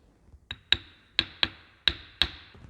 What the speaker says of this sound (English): Brass hammer. We're just gonna set it in place.